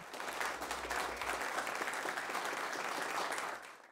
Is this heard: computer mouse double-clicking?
no